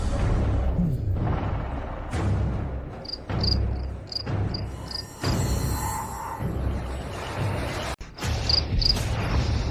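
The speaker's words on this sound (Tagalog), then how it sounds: "sinabi mong mahina ang Black Tiger ni Kuya, bakit hindi kayo maglaban ng inyong mga kuliglig?" Fighting crickets chirp in rapid, high-pitched bursts over a busy backdrop of rumbling, scraping noise and sudden impacts; no talking.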